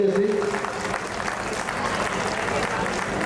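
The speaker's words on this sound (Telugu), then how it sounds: "దయచేసి అందరూ కూడా చప్పట్లు కొట్టాల్సిందిగా కోరుతూ ఉన్నాం" Audience at a Hindu Sammelan community gathering near Tirumala Basti, Gaddiannaram, claps to encourage children, a dense steady patter of many hands lasting throughout, fairly close and even in loudness.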